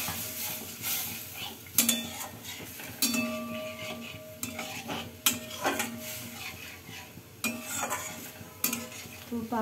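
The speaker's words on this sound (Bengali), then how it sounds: "এই মশলাটা একটু ভালো করে কষিয়ে নিচ্ছি," A spice masala for pabda fish curry is stirred in a pan with a splash of water, giving a soft sizzle under repeated metal spoon scrapes and clanks against the pan, close and moderately quiet, with no speech.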